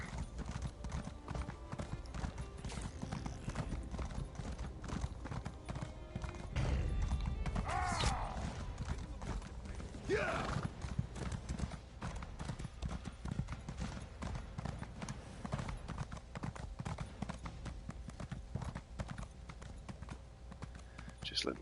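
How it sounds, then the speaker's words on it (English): A horse in Elder Scrolls Online canters with steady rhythmic hoofbeats, close and continuous across the whole stretch, with a brief whinny partway through and game ambience underneath. "Just let my horse canter and regain its stamina."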